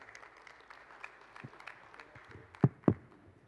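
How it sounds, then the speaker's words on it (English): A modest audience at a real-estate developers' convention legal session claps for the panelists and moderator, a faint, scattered patter of hands capped by two louder, closer claps near the end. "Please welcome our two panelists and our wonderful moderator with a round of applause"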